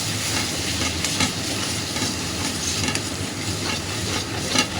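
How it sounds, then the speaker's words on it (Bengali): Katla fish head and taro leaves are stirred in a pan, giving a steady close sizzle with soft scraping strokes repeating under it. "এবারে আস্তে আস্তে করে নেড়ে নেব বারবার।"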